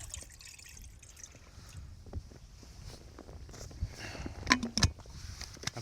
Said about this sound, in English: The very last drips of the water.